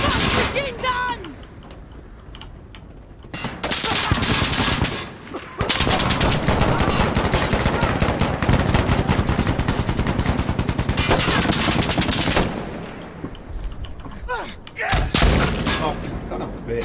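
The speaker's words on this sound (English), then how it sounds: "Machine gun!" Machine-gun fire rattles in rapid, loud bursts during a co-op match of the game Insurgency Sandstorm, with sustained volleys and short pauses between them. Players' voices can be heard now and then under the shooting.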